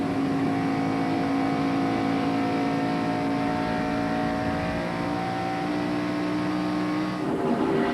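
A NASCAR Winston Cup stock car engine at Atlanta Motor Speedway in 1993, heard from onboard as a loud, steady high-revving roar with sustained harmonic drone and a brief shift in pitch near the end.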